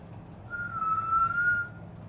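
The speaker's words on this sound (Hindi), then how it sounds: "इतनी खुश हो जाती है सीटी सुन के।" A single sustained whistle held steady for about a second at home, loud and clear over a low background hum, with no talking.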